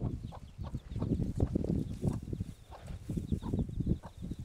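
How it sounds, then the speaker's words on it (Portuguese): A hen with ten chicks clucks in short, repeated bursts close by, a busy farmyard chatter with brief pauses between the calls. "Os meus pintinhos estão com o papo cheio."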